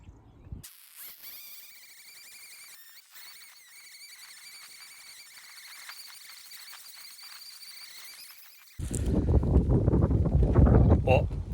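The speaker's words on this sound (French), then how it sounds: "Donc le vent s'est levé, il est en train de chasser les nuages" Wind picking up outdoors over a garden: a quiet stretch with faint thin whistling tones, then a sudden loud gust of buffeting wind noise that rumbles heavily against the microphone for the final few seconds.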